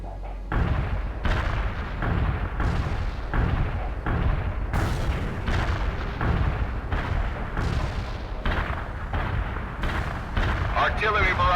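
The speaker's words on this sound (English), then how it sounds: "Heavy artillery barrage inbound." A heavy artillery barrage in the video game World in Conflict brings repeated loud booming blasts in irregular succession, with deep rumbling impacts rolling one after another for over ten seconds.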